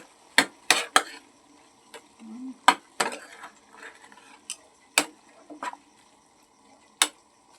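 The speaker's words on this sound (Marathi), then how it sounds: "आता छान मिक्स करून घेऊ" A spoon stirs vegetable bhaji curry in a pan, making sparse, irregular clinks and scrapes against the metal. Some taps are sharp and some are soft, close by in a quiet room.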